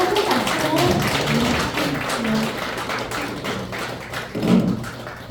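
Applause breaks out at a press conference where a candidate declares a run for the National Assembly in Seogwipo. A crowd claps densely and steadily, with voices mixed in and a louder thump near the end.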